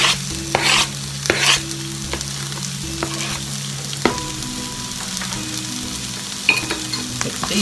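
Garlic and ginger sizzle steadily in a pan while a utensil stirs and scrapes through them, with several sharp scraping strokes standing out over the continuous close frying hiss; no one speaks.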